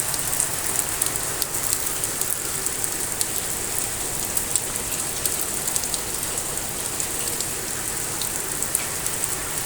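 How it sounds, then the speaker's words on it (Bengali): Heavy rain from Cyclone Remal pours down on Dhaka in a dense, unbroken hiss, with scattered drops pattering on a surface throughout. "প্রভাবের কারণে এভাবে বৃষ্টি হচ্ছে"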